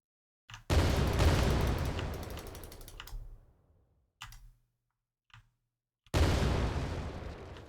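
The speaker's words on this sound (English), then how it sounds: "Throw a grenade." A grenade in an Unreal Engine 5 video game bursts loudly, and the boom fades over a few seconds. Small clicks follow, then a second loud blast near the end.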